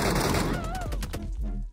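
Rapid automatic gunfire in the shooter game Metro Royale as a boss is shot, a clattering burst of repeated shots under swirling game effects, loud and close before cutting off.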